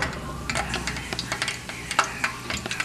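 Wontons frying in hot oil in a pan give a steady, close sizzle, broken by quick clicks and light clinks of stirring or utensils, with no voices.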